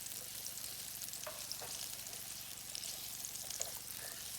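Seasoned sweet potato hash with salt and pepper frying in a pan while being mixed: a faint, steady sizzle runs throughout, with soft scraping stirs popping up a few times and no talking.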